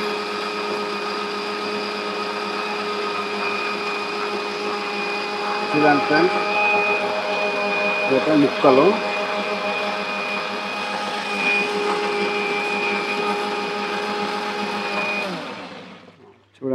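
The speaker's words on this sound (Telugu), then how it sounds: "ముక్కలు కట్ చేసుకుని మిక్సీలో వాటర్ పోసి మిక్సీ పట్టుకోవాలి" A kitchen mixer grinder whirs loudly and steadily as it blends cut pieces with water, a sustained motor drone with brief speech over it before it winds down near the end.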